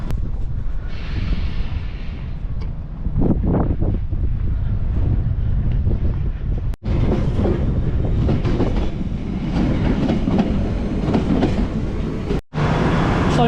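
A London Underground train runs along the track, heard from inside the driver's cab as a loud continuous rumble with rattling, wind rush and clickety-clack, broken by two brief sharp dropouts.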